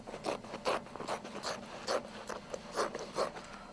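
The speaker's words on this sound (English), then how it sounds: "So I'm going to cut out this patch." Scissors cut through fabric for a camouflage suit patch, a quick string of rhythmic rasping snips, close and fairly quiet, with no talking.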